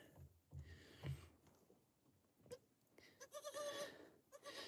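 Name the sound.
goats bleating on a homestead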